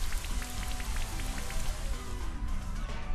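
Rain weather effect from the video game Pokémon Shield: a steady, dense patter of falling rain that runs throughout at moderate level, with no voices over it.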